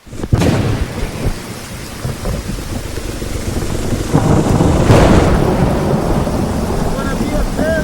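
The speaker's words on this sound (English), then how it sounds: "After you've battled the dust, the rain can suddenly appear, transforming the entire landscape." Thunder rumbles and cracks over steady rain in open country, a sharp close clap near the start and a long rolling peal building in the middle, with continuous heavy rainfall filling the background throughout.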